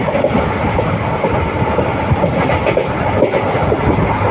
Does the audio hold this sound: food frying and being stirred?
no